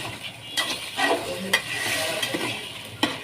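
Chicken meat being stir-fried (kosha) in a pan for a home-style chicken curry, with a steady close sizzle broken by several sharp scraping stirs of a utensil against the pan.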